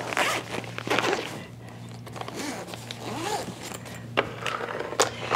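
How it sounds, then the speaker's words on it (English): A zipper is pulled closed on a bag holding frozen food for a trail car-oven meal, giving several close, raspy zip strokes with soft handling sounds in a quiet outdoor setting. "zip it closed."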